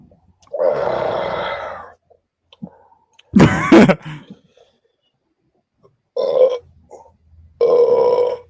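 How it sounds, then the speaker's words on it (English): A person lets out four separate burps, each loud and close. Two are long and rumbling, two are shorter, and quiet gaps fall between them. "That was a weak ass burp."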